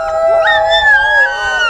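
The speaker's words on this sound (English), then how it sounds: "with the sounds of the dogs in the background" Sled dogs lined up on a blocked-off main street at the 2019 CanAm International Sled Dog Races in Fort Kent, Maine, howling loudly in several overlapping rising and sliding voices, close by and sustained.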